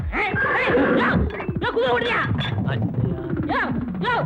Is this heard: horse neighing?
yes